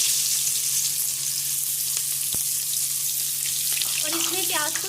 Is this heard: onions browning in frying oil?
yes